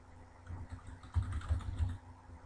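Keys tapped on a computer keyboard to enter a number into an HTML5 form field, a short cluster of soft, close clicks with a few louder taps near the end, no talking.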